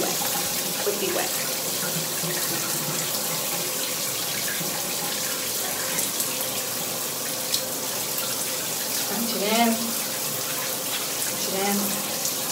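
Shower water running steadily while hair is quickly re-wet during a wash and go styling routine, a continuous broadband spray with faint splashes and a few soft vocal sounds over it.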